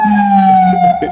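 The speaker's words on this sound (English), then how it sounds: "Yeah, the sirens, of course, that's the ambulance" A loud, close ambulance siren tone holding a steady pitch and then dropping slightly, in New York, with no talk.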